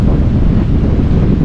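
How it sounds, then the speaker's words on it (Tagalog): Strong wind buffets the microphone outdoors at a park, a loud, continuous low rumble with steady roar and no pauses, filling the whole stretch without any voices. "Sobrang lakas ng hangin kaya medyo ano yung sound."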